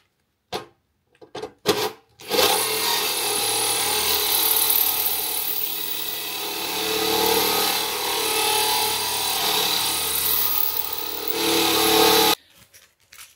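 A worn 25mm drill bit grinds and rubs through material for about ten seconds, a steady harsh drone with a ratcheting edge, preceded by a few short knocks and ending abruptly.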